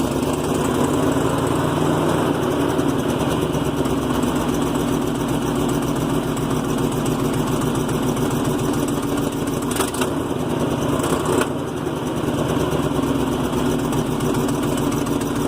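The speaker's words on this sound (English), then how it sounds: "It halfway fixed the problem, it's still backfiring." A truck engine runs steadily at a loud, close idle-like drone, with a couple of brief sharp pops around the middle suggesting backfires.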